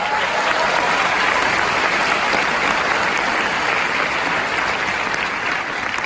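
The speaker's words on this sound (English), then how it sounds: "give them a little round of applause." Steady, dense applause from a graduation audience fills the room, loud and continuous for the full stretch with no pauses and no speech over it.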